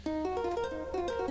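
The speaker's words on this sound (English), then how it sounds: "There's this harp sound" A harp preset built into Maschine plays a quick run of plucked notes stepping up and down, soft and alone over a low hum.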